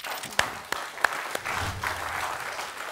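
Studio audience on a television game show gives scattered, moderate applause with a few sharp single claps early on that thicken into a steady ripple, while a low voice murmurs underneath.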